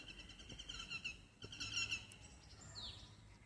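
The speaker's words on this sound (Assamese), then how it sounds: "চৰাইৰ মাত" Birds call faintly on the tree-filled IIT Guwahati campus, giving a few thin, high chirping phrases that sit over quiet outdoor background noise.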